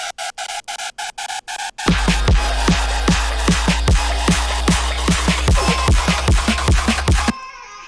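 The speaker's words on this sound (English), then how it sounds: "turned up the unison, turned up the detune it's on, but it's this super beefy like hyper patch" A super beefy hyper-chorus synth patch with high unison and detune plays as a dense, loud, wide buzzing wall, driven by a regular pulsing low kick. It follows a short rhythmic chopped intro and stops suddenly.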